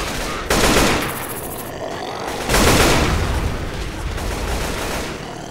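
Gunfire in the zombie shooter video game Left 4 Dead: loud, dense, continuous volleys and blasts with heavy, crackling bursts that swell twice and then carry on as a chaotic barrage.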